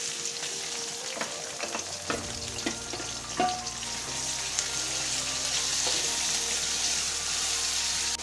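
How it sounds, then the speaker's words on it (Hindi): Onions frying in leftover oil for jackfruit biryani, a continuous close sizzle with occasional spoon clinks and stirring, no talk. "अब हम प्याज फ्राई करते हैं।"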